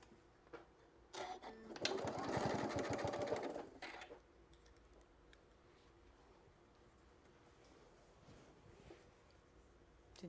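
A sewing machine runs a loud burst of stitching on a fabric shoulder wrap, about two seconds of dense rapid mechanical clatter, then drops to quiet handling noise and a few faint clicks.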